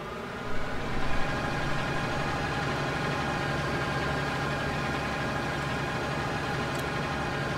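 Tractor engine idling in the Farming Simulator game, a steady mid-low drone held at a constant level with a brief rise near the start, no talking.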